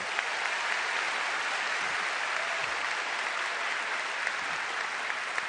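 Steady, sustained applause from a large audience at the DAR Continental Congress opening night ceremony, a dense even clatter of clapping filling the hall without pause.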